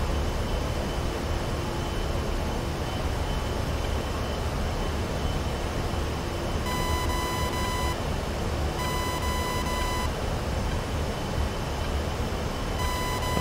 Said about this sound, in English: My plane's beeping at me.